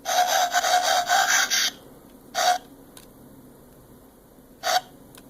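A burst of rapid scraping clicks followed by two short separate clicks as an electronic trigger is tapped with a screwdriver, close and distinct, with quiet gaps in between.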